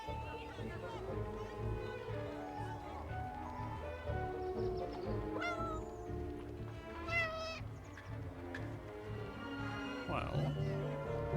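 A cat meowing in a World War I video game, a few short mews mixed under steady talk and a low background hum.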